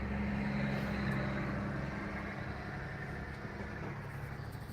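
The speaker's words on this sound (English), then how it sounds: "Let this truck go by." A truck rolls past with a steady low engine rumble and broad road noise that holds level and then slowly eases off, heard from nearby as if from inside a parked car, with no talk.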